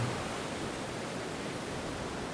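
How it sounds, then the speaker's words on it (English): Steady ocean surf forms a soft, continuous broadband wash at an even level, unbroken by distinct individual wave crashes and free of any voices. "because this is what waves do"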